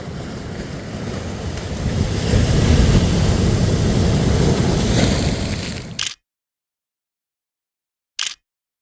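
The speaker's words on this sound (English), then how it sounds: "We are at the latter end of the storm." Loud storm wind and crashing surf roar continuously at the sea shore at the tail end of Storm Claudia, then cut abruptly to silence, followed by one brief gusty burst.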